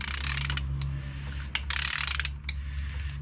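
A ratchet wrench turns over an LS4 engine in a Grand Prix GX after a cam and timing set install, giving rapid, loud, close metallic clicking in steady runs with brief pauses.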